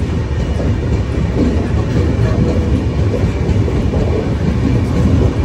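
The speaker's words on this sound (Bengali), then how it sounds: "ট্রেন তো ছাড়ার পর মোটামুটি গতিতে চলছে, এখনও দুরন্ত সেই পিক আপ দেখতে পাচ্ছি না।" Duronto Express sleeper train running on rails at moderate speed, a steady loud rumble of wheels and carriage noise filling the whole stretch with no voices.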